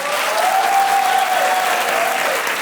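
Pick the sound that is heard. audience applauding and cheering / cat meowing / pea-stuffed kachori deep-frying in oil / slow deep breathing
audience applauding and cheering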